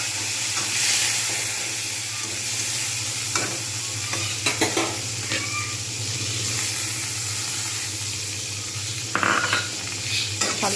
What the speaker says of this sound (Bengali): ভালোভাবে কিন্তু আমি টমেটোটা ভেজে নেব